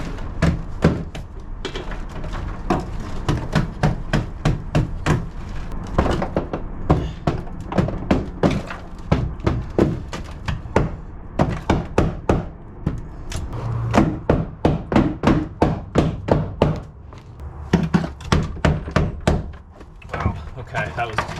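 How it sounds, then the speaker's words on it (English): Repeated sharp hammer blows chip dry-iced sound deadener off the floor pan of a 1993 Honda Civic, a dense, steady run of close thuds and knocks lasting the whole stretch, with brief pauses between bursts. "put the dry ice on it, pour some isopropyl alcohol, whack the shit out of it with a hammer, should chisel off"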